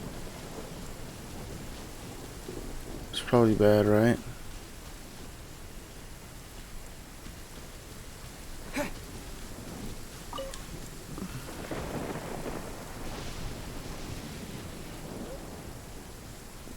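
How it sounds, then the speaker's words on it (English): Stormy weather in Genshin Impact: a steady hiss of rain with a loud crackling thunder crash early on and fainter distant rumbles after, while a person briefly talks. "Lightning storms."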